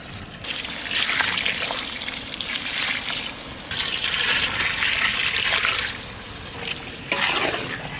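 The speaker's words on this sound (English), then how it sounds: "now we are going to add water" Water gushes steadily into a pot of mutton stew in a few long pours with brief breaks between them, loud and close.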